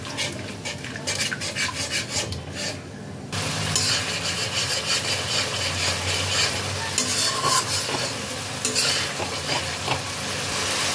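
Spice masala for chicken do pyaza stirred and fried in a pan with a little added water, giving a steady close sizzle under continuous scraping strokes that grow louder partway through.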